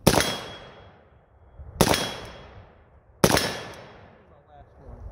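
Three loud, sharp rifle shots from an SLR-107R AK-47 with a flash hider and brake, fired outdoors in the cold, each crack trailing into a long echoing decay, spaced about one and a half seconds apart.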